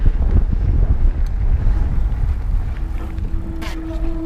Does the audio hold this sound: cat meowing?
no